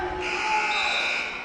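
Period-ending buzzer at a high school wrestling match, a loud sustained electronic tone lasting over a second, rising slightly then fading, with gym ambience behind it.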